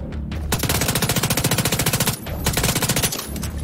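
Rapid automatic gunfire from The Division 2 video game, two close, loud bursts of dense, evenly spaced shots separated by a brief pause.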